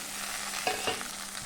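Chopped onion, ginger-garlic paste and tomato sizzle steadily in a hot pan, with a couple of brief scraping stirs near the middle, close and without talk.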